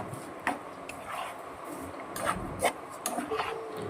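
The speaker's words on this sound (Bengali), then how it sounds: "চিলি ফ্লেক্সটা ভালো করে এবার মিশিয়ে নেব।" Chili flakes being mixed into pasta in a pan, with a utensil making soft, intermittent scrapes and light taps against the pan over a quiet background, and no talking.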